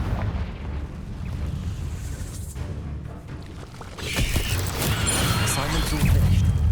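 Blasting-spell explosions from the video game Hogwarts Legacy: heavy booming bursts and rumbling impacts over continuous battle noise, loud and close, growing more intense toward the end.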